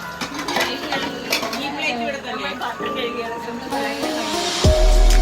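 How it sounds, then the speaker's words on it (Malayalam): Dishes, pots and utensils clatter and clink while being washed in a home kitchen, a continuous close run of metallic knocks and scrapes with water running, and a person talking over it. "പാത്രം കഴുകും ഡിപ്പാർട്ട്മെന്റ്."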